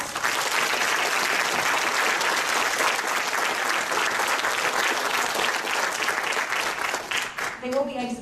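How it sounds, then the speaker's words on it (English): Sustained, dense applause from a city council debate audience for the candidates, steady and loud for most of the stretch before tapering slightly, with a voice briefly heard at the very end. "If you could please show your appreciation for their attendance tonight by a round of applause."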